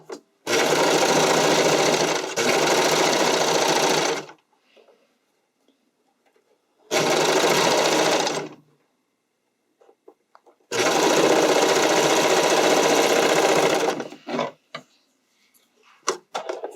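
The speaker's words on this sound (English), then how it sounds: "I like to just stay sewing in that direction" Sewing machine stitching lined bikini top bra cups, running in three loud sustained bursts separated by pauses with faint handling noises between.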